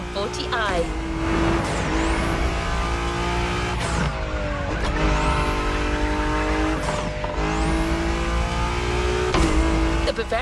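A BMW Z4 M40i roadster revving hard in Crew Motorfest, its engine climbing through gears in repeated sweeping surges and shifts, loud and continuous with some tire noise, under a voice talking.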